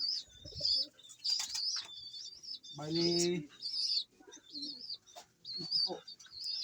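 Pigeons in a fancier's loft coo and chirp close by in short repeated calls, with one louder throaty coo midway, while a person speaks softly between the calls.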